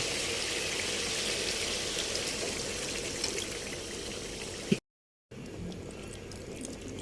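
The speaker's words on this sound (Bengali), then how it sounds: "এবার এই সময় দিয়ে দেবো গ্রেভির জন্য জল" Water pours into a pot of chicken gravy with spiced masala and oil, a continuous loud splashing rush over sizzling that stops abruptly partway through, followed by quieter bubbling.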